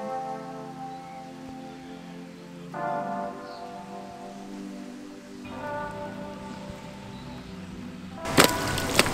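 Steady rain patters across a building site in a soft, even hiss, while long ringing bell-like tones sound over it and a brief louder clatter comes near the end.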